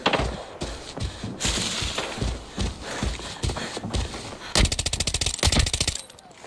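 Automatic fire from an AK rifle in the shooter game Arena Breakout, set on a farm map, with rapid sharp bursts that end in a fast, evenly spaced volley of loud close shots.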